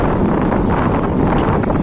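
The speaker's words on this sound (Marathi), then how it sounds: "समुद्राला एवढा उधाण आलेला आहे वारा सुद्धा सुटलेला आहे" Strong wind buffets the microphone at Varsoli beach, Alibag, beside a rough sea, in a loud, continuous roar with low rumbling gusts and no voices.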